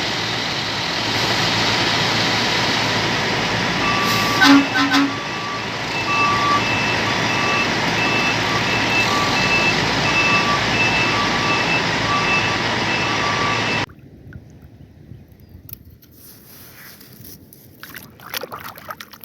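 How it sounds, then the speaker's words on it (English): A cartoon cement mixer truck reverses with a steady repeating beep over a constant engine drone for about fourteen seconds, then the sound cuts off abruptly, leaving only faint, scattered clicks and noises. "this is a mixer truck, guys."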